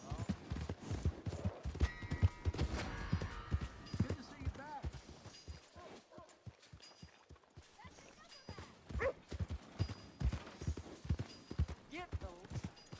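Horse hooves in Red Dead Redemption 2, rhythmic clopping that grows clearer in the middle, with a dog barking and voices shouting over them.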